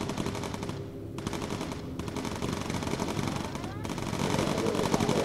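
Machine guns from B-17 bomber gunners in Bomber Crew, rapid sustained bursts rattling loud and continuous with brief gaps, while voices talk over the firing.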